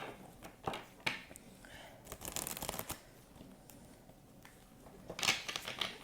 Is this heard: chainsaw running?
no